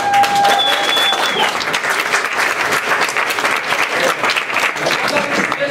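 Enthusiastic hand clapping from a live audience at a school stage show, loud and continuous throughout, with a few whistles and some cheering voices mixed in.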